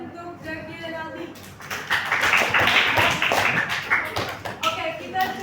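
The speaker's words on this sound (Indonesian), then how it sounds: "Oke, kasih aplaus untuk Zaki dan Aldi." A classroom of students clapping for two classmates who just finished at the board, a scattered burst of applause swelling after a moment of talk, with voices mixed in.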